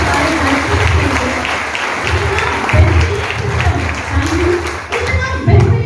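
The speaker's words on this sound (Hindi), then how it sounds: "एक बार जोरदार ताली होनी चाहिए हमारे डायरेक्टर के लिए।" An audience at an indoor training session applauds for the director, a dense burst of clapping with crowd noise mixed in, loud and fairly close throughout.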